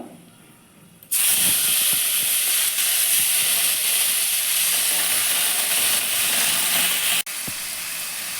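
Chopped tomatoes hit a hot pan for tomato, date and mango-leather chutney, bursting into a loud, steady steaming sizzle that holds for several seconds before dropping back to a softer hiss.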